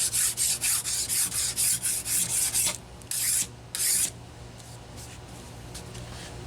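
Close rasping strokes of a file cleaning sharp edges and a burr off the bar of a Homelite XL-2 chainsaw, a quick regular run of scrapes followed by a pause and then two slower strokes.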